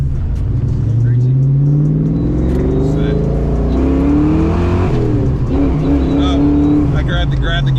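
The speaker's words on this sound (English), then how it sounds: "I grabbed the gear a little bit. Ground the gear." A 34-year-old Fox Body Mustang drives on a road trip; its engine drones and climbs in pitch through a rough gear shift, loud and close inside the cabin.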